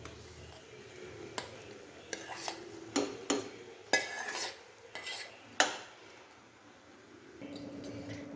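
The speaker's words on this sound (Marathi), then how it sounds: "आता हे शिजवून घेतलेलं सगळं साहित्य याच्यावरती घालूया." Cooked ingredients are added into a pot of khichdi, with a series of sharp metallic clinks and scrapes of a spoon against the vessel, irregular and close, in a quiet kitchen.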